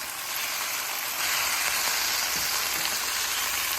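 Breakfast tacos frying in a pan, a steady loud sizzle that swells slightly after being flipped, with no talking over it.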